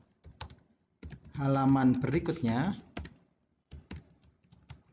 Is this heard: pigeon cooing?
no